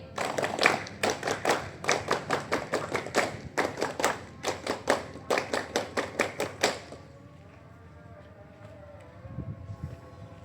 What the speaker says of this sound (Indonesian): Tepuk pramuka 2 kali.